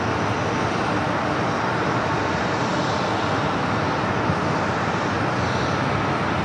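A heavy jet aircraft arriving at Phoenix Sky Harbor airport, a steady broadband engine roar that holds loud and even throughout without pause.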